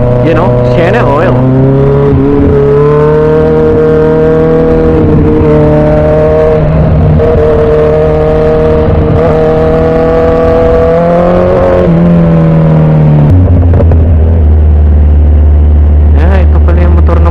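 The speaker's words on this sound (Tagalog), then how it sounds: "Ito pala yung motor na malutong ang tunog. Ganda pagka nabomba eh." A Kawasaki Ninja 1000SX motorcycle engine, very loud and close, runs and revs in rising and falling pulls, with its pitch holding, dipping and then dropping back to a low idle.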